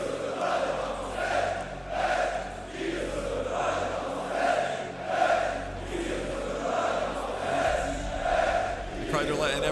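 An arena crowd at a Rocket League world championship roars and chants in rhythmic waves, rising and falling about once a second as if jumping together, with a commentator's voice faintly underneath.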